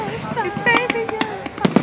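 Bonfire Night fireworks bursting over a recreation ground in Nottingham, a rapid run of sharp pops and crackles close by, with people chattering and singing over them.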